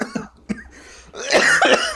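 A person coughs a few times during a podcast recording, two short dry coughs close to the microphone followed by a longer, rougher coughing fit.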